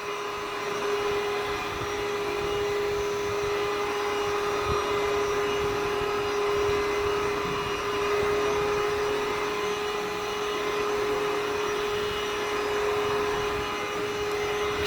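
An all-in-one wet/dry vacuum cleaner and mop running indoors, a steady close motor whine with a constant tone and airy rush that holds level throughout, with no voices.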